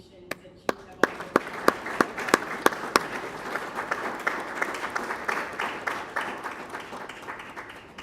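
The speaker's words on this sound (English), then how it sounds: "we should just give a round of applause for all of the innovative solutions" An audience at the GAIAfest 2025 event gives a round of applause: a few sharp, distinct claps quickly build into sustained, dense clapping that carries on steadily at moderate loudness.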